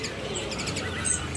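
Caged songbirds at a bird shop chirp in quick bright bursts over a constant background murmur, close and moderately loud.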